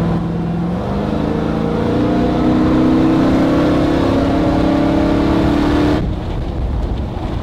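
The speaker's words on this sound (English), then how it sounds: "Yeah, you can kind of hear it shift." A vehicle on 42-inch tires accelerates from close by, its engine note climbing steadily before a gear shift drops the pitch, loud and continuous with no talking.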